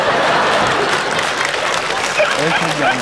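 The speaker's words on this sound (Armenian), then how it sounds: "Ծափարենք Սարո Թովմասյանի։" Audience applause at a live Armenian evening show, a dense, steady wash of clapping filling the whole stretch, with a voice rising faintly near the end.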